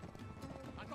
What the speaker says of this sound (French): Donc là on est à cheval, c'est plutôt sympa.